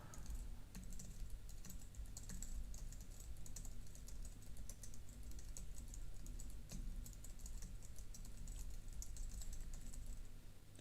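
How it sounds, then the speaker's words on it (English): Numbers are tapped out on a computer keyboard as a quiet, steady run of light clicks over a low electrical hum, with no speech. "I'm going to type crazy numbers now."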